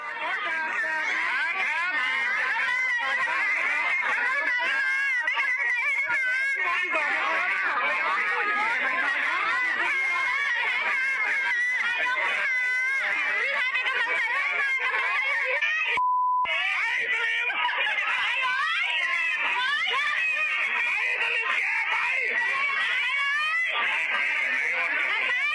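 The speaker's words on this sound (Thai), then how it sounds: "เนี่ยคือตอนต้นเนี่ยจะได้ยินเสียงตะโกนไล่คนที่ไปชูป้ายแสดงออก" A dense crowd at a political rally shouts continuously to drive out a lone man holding up a protest sign, loud and close, with overlapping voices and occasional sharper cries throughout.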